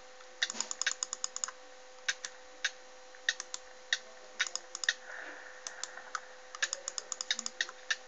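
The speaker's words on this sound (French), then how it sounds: "J'appuie frénétiquement sur ma souris." A computer mouse is clicked frantically while playing a game: crisp, close, irregular bursts of rapid clicks with short pauses between clusters, over faint steady background hum.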